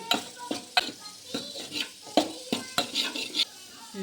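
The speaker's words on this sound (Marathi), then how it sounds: "हे मसाला टाकल्यानंतर हलवून घेऊ." A utensil stirs masala in a metal cooking pot, scraping and clinking against the sides in a loose rhythm of about a dozen close, distinct knocks, with a faint sizzle underneath.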